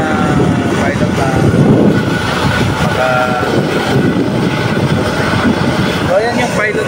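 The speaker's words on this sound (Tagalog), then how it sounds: "Ayan ang ating helicopter." A helicopter that has just landed sits with its engine running, giving a loud continuous rumbling whine with a steady tone throughout, close by.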